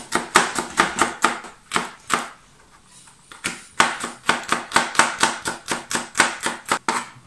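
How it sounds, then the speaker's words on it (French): Knife chopping food into small pieces on a board for a beer chicken with potatoes dish, a fast run of sharp close taps with a brief pause midway, then steady rhythmic chopping resumes. "à l'aide d'un couteau, je vais la couper en tout petits morceaux"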